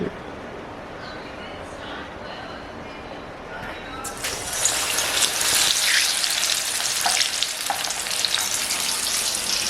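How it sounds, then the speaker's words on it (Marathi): Prawn vadas for vada pav drop into hot oil and start deep frying, the quiet background suddenly bursting into a loud, dense, close sizzle that keeps bubbling steadily, with someone talking under it. "तर आता हे वडे मी फ्राय करते"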